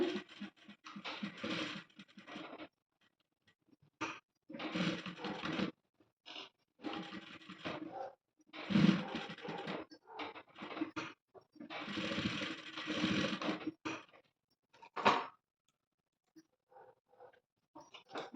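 A sewing machine stitches a high school uniform in several short bursts, each a few seconds long, with quiet pauses between them. The sound is fairly close and runs without any talk over it.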